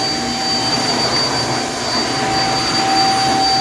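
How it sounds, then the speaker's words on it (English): A vacuum cleaner runs steadily on a car floor mat, a loud continuous whine and roar with a faint high tone held throughout, no pauses. "You just put the vacuum on it and never check the mat."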